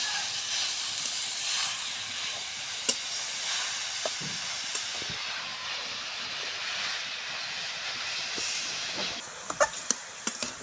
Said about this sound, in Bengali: এবার গরম তেল এবং ডালটার সঙ্গে ভালো করে বিটগুলো ভেজে নেওয়া হবে